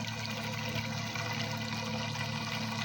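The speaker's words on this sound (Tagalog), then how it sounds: "Lakas ng agos." Strong water flow rushes through a hydroponic NFT system of pipes and drums, a steady loud gushing and splashing that holds without a break, with no talk.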